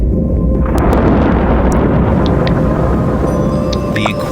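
A thunderstorm over the Amazon rainforest produces a loud, deep, continuous rolling rumble, with faint higher chirps scattered above it.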